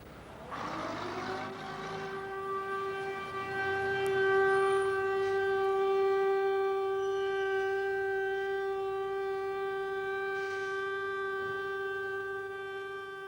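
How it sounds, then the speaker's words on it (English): Holocaust remembrance siren wailing across Israel, a long steady civil defense tone holding one pitch with strong harmonics, swelling slightly and sustained for over ten seconds, heard alone without speech. "Wherever they were when the siren sounded, whatever they were doing, the Jews of Israel stopped this week"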